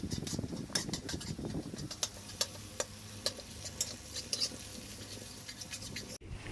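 Tau chiong, a fermented bean paste, fries in a wok for vegetarian mala noodles. Soft sizzling runs underneath scattered spatula scrapes and taps, with a louder stirring rustle at the start, then quieter clicks and a sharp knock near the end.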